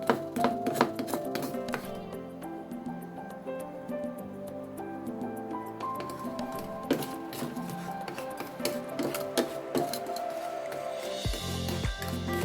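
A knife chops food into pieces while making Filipino biko sticky rice cake, with a steady run of close, rhythmic chops on a board under background music.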